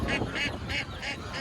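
Native ducks quack at a Natore village market, giving about five loud, nasal calls in a steady, uneven rhythm with no talk over them.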